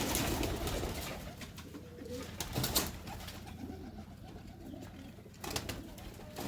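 A pigeon in a loft at Dina coos repeatedly in soft, low, rolling calls, close by, with brief louder rustles or flaps breaking in now and then.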